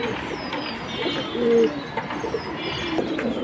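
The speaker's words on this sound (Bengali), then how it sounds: "হ্যামার লাইনের কবুতর" Homer-line pigeons at a bird market coo softly in low, short phrases, close by amid a busy background murmur.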